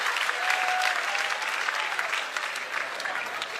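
A comedy club crowd applauds during a stand-up set, many hands clapping in a dense, steady roar at moderate volume that carries through without pause.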